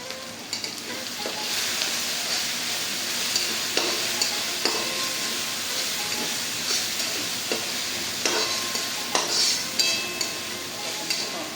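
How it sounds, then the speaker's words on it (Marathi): Garlic paste and curry leaves stir-fried in a pan for egg fried rice, with a continuous close sizzle broken by repeated scraping stirs and no talking. "थोडा कढीपत्ता आपण यामध्ये टाकून तडतडीत असा झाल्यानंतर करून आपण आता सकट सर्व मिक्स करून घेणार आहोत"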